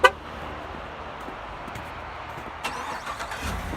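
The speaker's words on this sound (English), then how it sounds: "With features like your remote start" A 2016 GMC Sierra 1500 Denali crew cab truck starts by remote: a short horn chirp, then a steady low engine idle heard from nearby, with the revs lifting slightly near the end, no voices.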